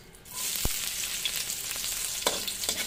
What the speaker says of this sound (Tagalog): Gigisa ko po yung ampalaya.